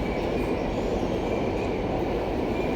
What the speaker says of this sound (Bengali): ট্রেন যাচ্ছে বাড়ির পেছন দিকে।